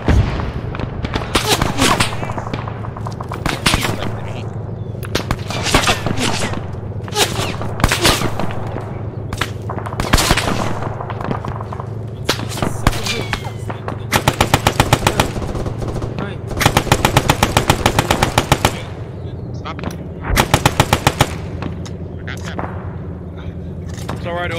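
Heavy battlefield gunfire at Kasserine Pass, with rapid machine-gun bursts and single shots crackling loud and close, repeating almost without pause in dense, uneven volleys across the whole stretch.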